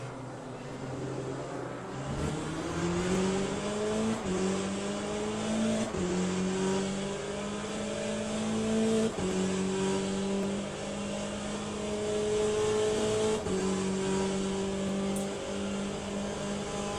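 Hypercar engine in the racing game Le Mans Ultimate, a loud sustained race-engine drone rising through the gears in repeated climbing sweeps with sharp shift drops, steady and close with no talk.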